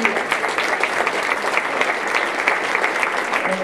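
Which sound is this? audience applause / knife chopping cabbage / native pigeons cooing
audience applause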